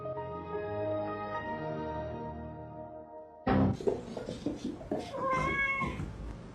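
A pet cat meows indoors, several short, fairly close calls following a steady hum, with scattered knocks and rustling around them.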